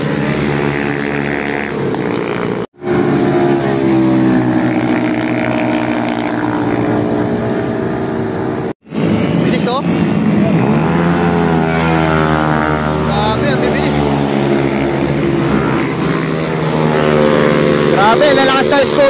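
Motor scooter engines whine and buzz loudly while racing on a wet road in the rain, rising and falling in pitch as they race past, with two brief sudden dropouts.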